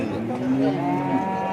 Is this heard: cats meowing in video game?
no